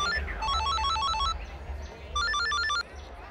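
A telephone ringing with a bright electronic trilling ringtone, two bursts separated by a short pause, heard over a low background hum.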